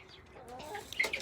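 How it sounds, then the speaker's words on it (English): A farm chicken gives a few short clucks, close and fairly faint, in a brief burst near the end of a quiet moment. "There's a big chicken."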